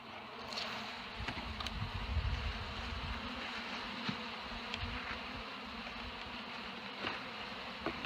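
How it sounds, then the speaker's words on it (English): Honey bees buzz in a steady, dense hum while a package of bees is knocked down during hive installation, with a few sharp knocks breaking through the drone. "I'm going to knock these bees down just a little."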